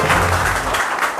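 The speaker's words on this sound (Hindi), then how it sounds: "रितिका के लिए एक वाटर बोतल है, तो एक जोरदार ताली होनी चाहिए।" Brief burst of loud audience applause for a quiz contestant at a KBC-style competition, dense clapping that thins slightly toward the end.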